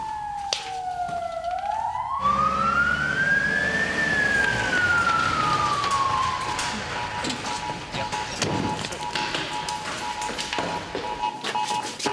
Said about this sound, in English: Who's the ambulance for, Mickey?